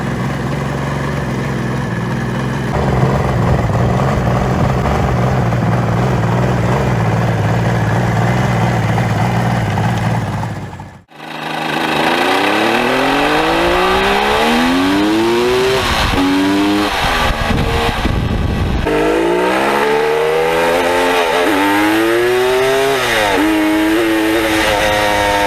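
A Kawasaki H2 750 two-stroke motorcycle engine runs at a steady buzzing drone, cuts out briefly, then revs up and down repeatedly with rising and falling whine through the gears, loud and close.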